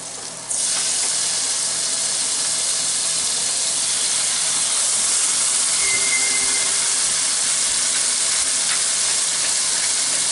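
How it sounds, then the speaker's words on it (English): Steady, bright sizzling of butter in a hot frying pan, a continuous crackling hiss that starts abruptly and holds close and loud throughout. "Got a little bit of butter in the pan."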